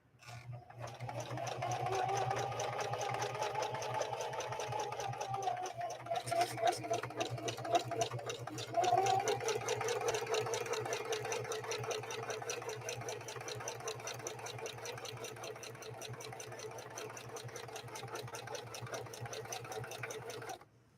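A Singer 4411 sewing machine running steadily through two layers of nylon-polyester upholstery fabric, a continuous rapid mechanical stitching whir with a low hum, holding at even pace for about twenty seconds.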